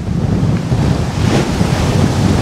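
Sea waves and strong wind roar continuously and loudly around a sailboat on a North Atlantic crossing from the Azores to Portugal, with no voices.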